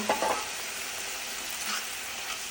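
Masala paste hits a pan of browned onions for a Brahmin-style chili fish curry and sizzles loudly, a hiss that flares at first and settles into a steady, close frying crackle.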